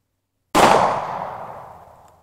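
A single loud gunshot from a Taurus .357 revolver loaded with .38 Special rounds at a shooting range, a sharp crack after silence that rings out and decays over about two seconds.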